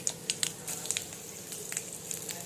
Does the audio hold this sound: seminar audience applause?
no